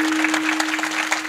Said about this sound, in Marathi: एकदा महाराजांसाठी सगळ्यांनी छान टाळी होऊ द्या